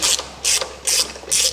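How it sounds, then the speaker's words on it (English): Ratchet clicking in four quick bursts as supercharger bolts are tightened on a 1955 Chevrolet Nomad, each burst a crisp close-up series of ratcheting clicks separated by short pauses. "which to me is one hand on a ratchet torque right up to it"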